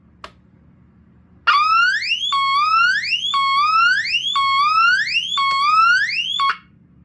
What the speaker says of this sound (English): I just really like this alarm so much, and I just want you guys to hear it.